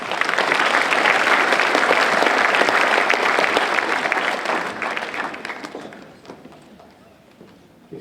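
Graduation ceremony audience applauding, a dense sustained burst of many hands clapping in a hall that fades out over the last couple of seconds.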